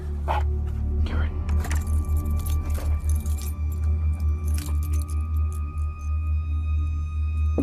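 Keys jangle close by in several bright metallic shakes over a steady low engine hum, with raised voices and a dog barking around them during a tense night at a campsite.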